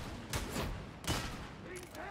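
Rifle shots ring out in Warhammer 40,000: Darktide, two sharp blasts about a second apart with a softer burst near the end, fairly close and loud.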